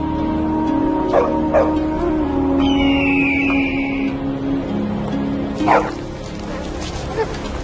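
A dog in an Ice Age nomadic setting gives a few short yips and whimpering barks, close and fairly loud, scattered among other ambient sounds and a tonal whine.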